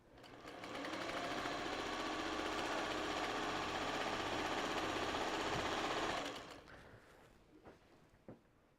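A sewing machine stitches a quilt top made from layer cake fabric squares. Its loud, steady whirring runs for about five seconds, then stops, leaving a few faint clicks and handling noises.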